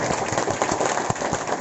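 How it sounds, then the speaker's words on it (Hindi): A seated audience at a business seminar claps and applauds enthusiastically, a dense, loud, continuous patter of many hands with no voices over it. "एक बार दिल खोल के ताली बजाइए, दिल खोल के बजाइए"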